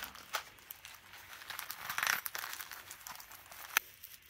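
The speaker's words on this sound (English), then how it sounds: "Plastic bag." Plastic bag crinkling up close as a first aid kit is packed, a run of soft crackles and rustles that swells around the middle and ends with one sharp snap near the end.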